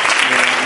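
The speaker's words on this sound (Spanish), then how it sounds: "un aplauso para ellas" Audience applause at a women's diploma ceremony in Mar del Plata, a brief, loud, dense burst of clapping that fills the whole moment.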